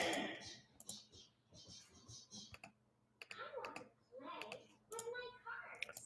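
Mouse clicks while browsing supplier listings on a computer: several sharp clicks scattered through the clip, close and fairly quiet, alongside talking.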